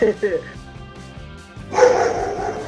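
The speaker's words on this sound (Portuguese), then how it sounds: "Agora o cachorro." A dog gives a couple of quick, close barks at the very start, followed by a stretch of quieter murmur and then a burst of broadband rustling noise.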